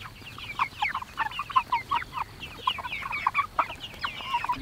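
Young roosters on a small farm attempt their first crows, repeated rough, breaking calls mixed with clucking from the flock, close and fairly loud throughout.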